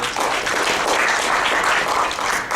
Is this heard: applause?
yes